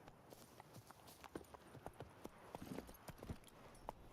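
Roach the horse trotting in The Witcher 3, a steady run of close, crisp clip-clop hoofbeats over a soft ambient bed, with no voices.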